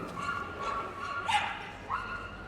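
At an indoor agility competition at Crufts, dogs give a few short yips and barks, a sharp bark standing out near the middle and another toward the end, over a hall's background murmur.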